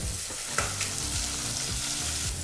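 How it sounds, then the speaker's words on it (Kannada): Onion and green chilli frying in a pot over a medium flame for hotel-style jeera rice, giving a steady close sizzle with a few soft stirring scrapes and clinks, and no talk. "ಈರುಳ್ಳಿ ಮತ್ತು ಹಸಿಮೆಣಸಿನಕಾಯಿ ಎರಡನ್ನು ಮೀಡಿಯಂ ಫ್ಲೇಮ್ನಲ್ಲೇ ಎರಡು ನಿಮಿಷ ಚೆನ್ನಾಗಿ ಫ್ರೈ ಮಾಡ್ಕೋಬೇಕಾಗತ್ತೆ"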